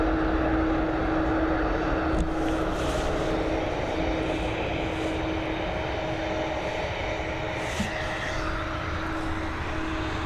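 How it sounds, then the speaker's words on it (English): A Mitsubishi CRJ900ER regional jet in Nordica livery departing Dublin Airport, with a loud, steady engine roar and whine sustained throughout, heard from nearby on the ground. "This Nordica liveried X-Fly is now on departure, heading over to Copenhagen."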